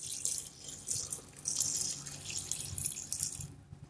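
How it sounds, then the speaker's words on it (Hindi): Water pours steadily into a cooking pot holding green amaranth (chaulai) greens for moong dal, a soft continuous splashing that trails off near the end. "अब इसमें हम ये पानी डाल देंगे।"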